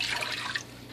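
Water pours into a breakfast bowl in a brief, close splashing burst that fades within a second.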